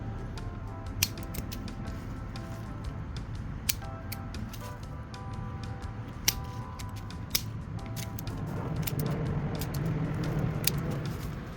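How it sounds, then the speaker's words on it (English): Hand shears trim a gardenia plant into a round shape, giving a steady run of crisp, close snips with short pauses between cuts over a quiet background. "we're gonna start off by giving the plant a nice trim, give it a nice round shape"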